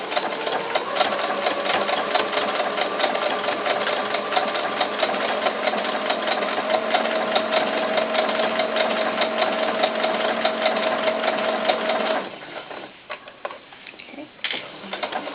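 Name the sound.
sewing machine stitching fabric for a doll tank top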